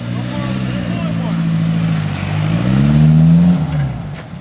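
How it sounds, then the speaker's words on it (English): A Ford Mustang SVO engine revs up and holds higher RPM, a loud, steady rumble that climbs toward the end, with voices talking over it. "You got to turn the wheel and rev it a little higher."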